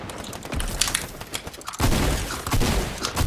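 Sustained gunfire in a shooting game, a dense rattling fusillade that grows louder partway through and continues to the end, close and harsh.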